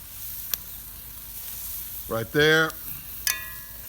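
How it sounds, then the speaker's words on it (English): Sauce dripped onto charbroiled oysters on a Weber Smokey Joe grill sets off a steady close sizzle and hiss, with a brief louder burst and a couple of sharp clicks, with no talking. "I think I need to add some sauce to a couple that are drying out"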